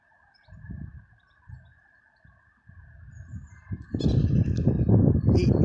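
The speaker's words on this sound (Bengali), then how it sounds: "কিন্তু অনেক হাঁস রয়েছে এখানে।" Ducks on a park lake in England in winter call in short, scattered bursts, and a louder, steadier wash of outdoor noise builds up over the last couple of seconds.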